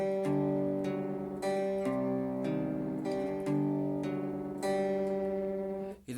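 Electric guitar plays the chorus riffs of a song, strummed chords that change roughly every second in a steady driving pattern, loud and sustained, alone with no voices, ending in a brief cutoff.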